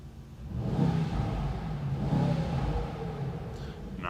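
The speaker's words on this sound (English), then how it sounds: "now it's time to listen to the exhaust of the AMG GT63 SE" A Mercedes-AMG GT63 SE V8 hybrid heard from its exhaust with the windows down: a deep, steady rumble that swells and eases in two broad surges, close and fairly loud, with no talking.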